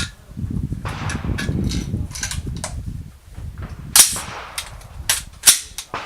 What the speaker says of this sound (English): right now I'm just gonna load them one just to make sure that it will fire and eject.